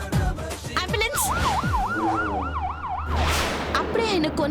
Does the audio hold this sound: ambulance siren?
yes